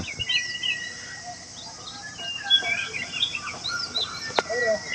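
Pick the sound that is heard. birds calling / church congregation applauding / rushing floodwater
birds calling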